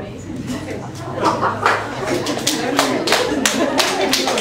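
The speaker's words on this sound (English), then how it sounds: "clap hands again" A group claps hands together in a steady, continuous patter, with voices mixed in among the clapping.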